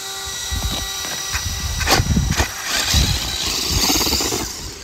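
A small motor on a 3D-printed RC car revs and whines in rising and falling bursts as it pulls wheelies, loud and close, with no voices.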